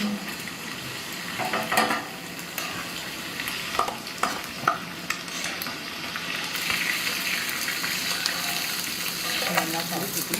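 Stingray pieces fry in hot oil with a steady sizzle, broken by occasional stirring clatters and scrapes, close and continuous at moderate volume.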